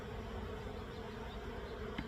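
Young nurse honey bees buzz inside a container during a varroa mite check, a dense steady drone filling the whole clip with no voices.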